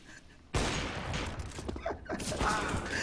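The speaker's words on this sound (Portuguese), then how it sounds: "O Razer me deu um tiro" A sudden burst of rapid gunfire from a first-person shooter video game breaks out after a brief quiet moment, continuing as a dense, loud volley of shots.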